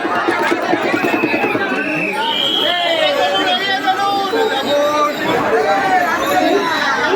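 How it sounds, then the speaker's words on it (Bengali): A crowd of pilgrims at Sheoraphuli just off the train on the second Monday of Shravan, heading to Tarakeswar, makes a dense, continuous hubbub of many overlapping voices, close and loud throughout. "এই যে শ্যাওড়াফুলির ভিড়টা দেখাবো মানে প্রচুর ভক্তরা কিন্তু ট্রেন থেকে নামলো"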